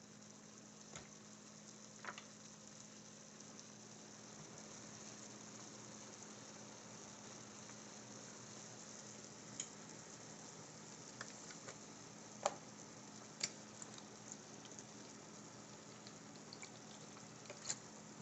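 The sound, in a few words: vegetables sautéing in butter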